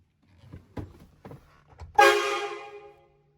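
A few soft knocks and clicks lead into a single loud, long blast from a train horn kit on a Chevrolet Silverado pickup that rings and fades.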